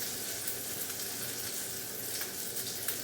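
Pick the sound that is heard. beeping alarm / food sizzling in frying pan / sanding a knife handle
food sizzling in frying pan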